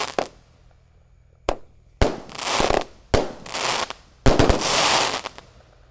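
Bazooka-style firecrackers and Roman candles set off on Takbiran night, several loud sharp bangs with crackling tails arriving in separate bursts, the last ones rapid and clustered.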